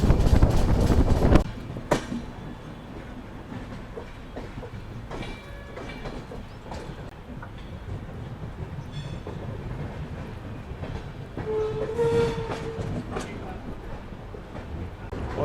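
A train rolls into Ujjain Junction railway station, with steady rumbling rail noise, clattering wheels and a brief loud burst at the start, while people talk over the scene.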